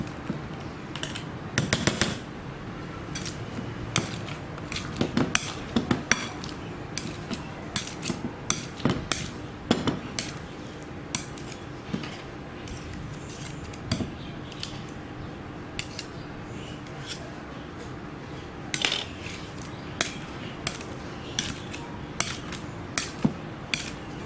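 Unsoftened butter being mashed in a bowl for herb butter: a long run of irregular sharp clicks, scrapes and taps of a utensil against the dish, close and fairly quiet, with no talking.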